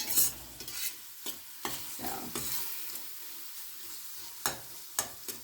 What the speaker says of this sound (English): let it fry for a few minutes as you would curry